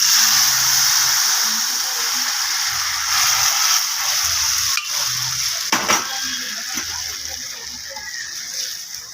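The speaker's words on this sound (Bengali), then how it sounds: "এখন ডালটাকে ঢেলে দেবো।" Lentils (dal) tipped into onions fried until fully red, a loud, steady frying sizzle and hiss that runs the whole time, with a couple of brief clatters partway through.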